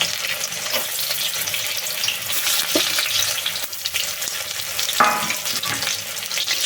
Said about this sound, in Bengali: এবার কড়াইয়ের মধ্যে দিয়ে দিচ্ছি অল্প সাদা তেল, দিয়ে সয়াবিনগুলো এক এক করে ভেজে নেব।